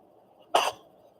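A single short, sharp burst like a sneeze from an adult indoors, sudden and fairly loud against a quiet background, fading quickly.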